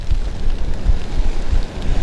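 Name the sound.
rain and wind at an outdoor fishing match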